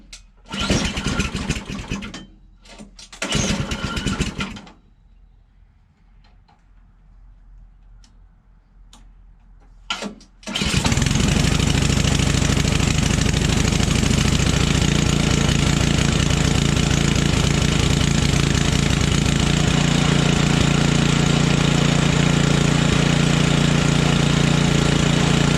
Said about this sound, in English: see if it ends up moving and if this machine will idle up like it's supposed to